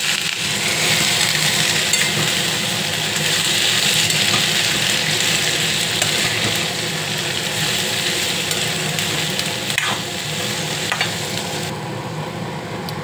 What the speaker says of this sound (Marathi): टिंडली टाकली तर हलवून घेऊया